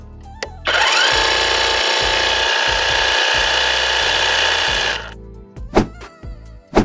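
A Firman FTH24V HD battery-powered tea harvesting machine runs at a constant speed of about 2000 rpm, giving a loud, steady motor whine for several seconds. It then cuts off, followed by a few scattered clicks and knocks.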